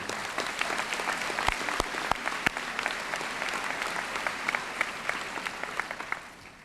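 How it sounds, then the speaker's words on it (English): High school graduation audience applauding the choir and music program, a continuous moderate wash of clapping with a few sharp close claps standing out early, trailing off at the end. "Please give them a round of applause"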